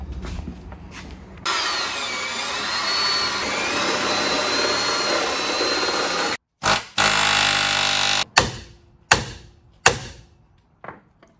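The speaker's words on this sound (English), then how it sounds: "I am gonna grab a drill bit and drill out those plug welds" A power drill bores out plug welds on the lower control arm mounts of a Jeep Cherokee XJ: a loud, steady whine runs for about five seconds, then shorter bursts of drilling start and stop in a choppy rhythm.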